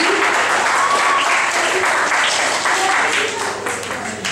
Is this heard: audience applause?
yes